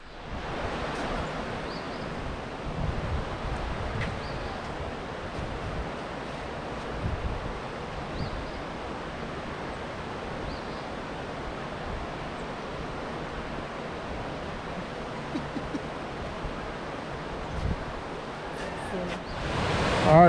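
A waterfall near Atlanta, Georgia roars as a broad, steady rush of water, continuous and fairly loud throughout, with light wind buffeting the microphone and brief bumps near the end.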